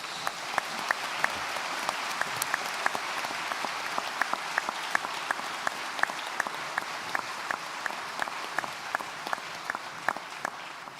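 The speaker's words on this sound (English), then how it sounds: "So a final round of applause for all our award winners" Audience applause for award winners at a graduation ceremony in a hall, a soft bed of clapping with distinct individual claps standing out in a loose, steady rhythm, moderately distant and without talk.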